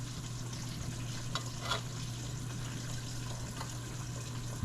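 Chicken pieces frying in hot oil in a pot, a quiet, steady crackling sizzle over a low hum, with a couple of brief louder pops and no talking.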